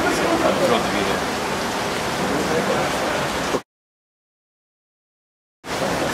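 Steady rain hissing outdoors at the Fuji Rock music festival in the mountains, a dense even wash of noise that cuts out abruptly for a couple of seconds before resuming.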